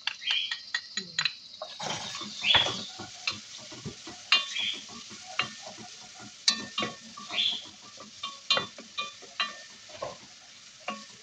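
Onion and garlic are sautéed in olive oil and butter, giving a soft, crackling sizzle broken by frequent light clinks and scrapes of a spatula stirring the pan.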